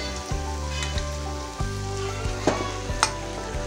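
Meat frying in a hot pan in a home kitchen, a continuous sizzle with several sharp knocks and scrapes of a spoon against the pan.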